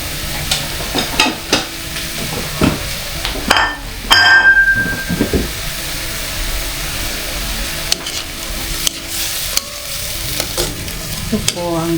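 Garlic butter prawns fry in a pan with a splash of Sprite, giving a steady close sizzle broken by scraping stirs and sharp clatters of the utensil against the pan, with no talking.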